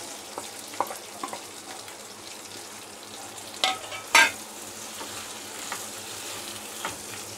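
Okra and peeled raw green mango frying together in a pan, a continuous soft sizzle broken by a few sharp pops and spatters.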